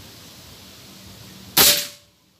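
A single sharp, sudden crack of a PCP air rifle shot from a Predator Dural OD 38, close and loud, followed by a quick fade into quiet.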